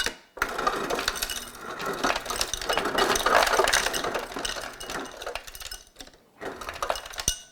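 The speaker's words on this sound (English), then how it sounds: "Ice maker's gonna make some noise, guys." A refrigerator ice maker dispenses crushed ice in a long rattling, clinking grind with crunchy bursts. The sound stops briefly, then picks up again, close and moderately loud.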